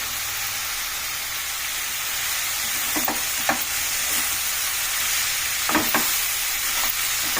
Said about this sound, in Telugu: పాలకూర ఈ రకంగా మంచిగా మగ్గించుకోవాలండి.